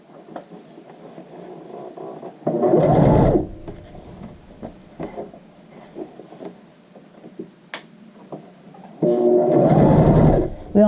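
A sewing machine stitches a skirt waistband in two loud bursts of rapid whirring, one early and one near the end, with quiet handling noises and faint talk in between.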